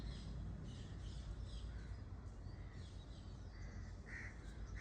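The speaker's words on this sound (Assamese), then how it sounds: "চৰাইবিলাকৰ মাত শুনিছেনে?" Crows caw outdoors in the morning, a few hoarse calls scattered at a distance over a steady, faint background hiss.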